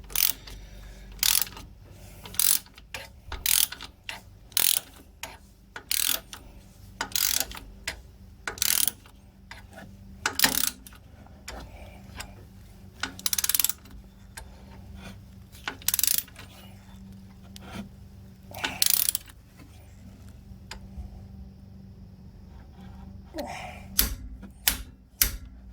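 A wrench turns a bolt on the rear axle of a fourth-generation Suzuki Jimny during a lift kit fitting, making repeated sharp ratcheting clicks in quick bursts with short pauses between them.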